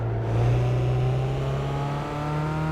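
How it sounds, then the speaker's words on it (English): A loud race car engine in Gran Turismo 5 drones steadily at high revs through a tunnel, its sound filled out with a hollow, enclosed echo. "Through the tunnel. Listen to that echo."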